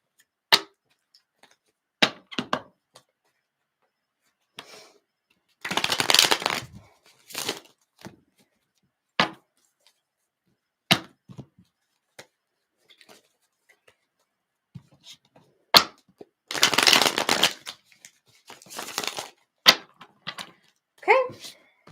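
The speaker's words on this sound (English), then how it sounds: "You guys can take a look at the shuffling that is happening." Bursts of tarot card shuffling, riffling flutters mixed with sharp clicks and taps of cards being squared, close up with pauses between.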